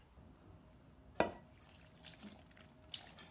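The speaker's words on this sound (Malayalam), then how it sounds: "കുറച്ച് വെള്ളം ഒഴിച്ച് കൊടുത്താൽ മതി" Water poured into a pineapple pachadi mixture in a cooking pot gives one brief, sharp splash, followed by faint, quiet kitchen background.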